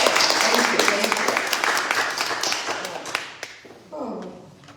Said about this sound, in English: Another applause for Tamiko and Maury